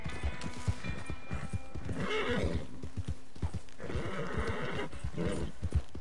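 A horse in the online Western game Red Dead Redemption neighs in loud whinnies while hooves clip-clop in a steady rhythm, close by, with no talk over it.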